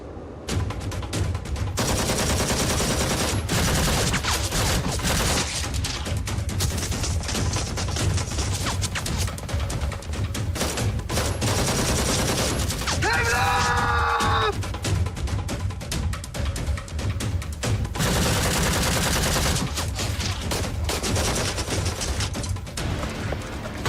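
Dense, continuous gunfire rolls through a shootout on an amateur road, loud sustained bursts and volleys with a brief siren-like wail in the middle, the barrage carrying on almost without pause.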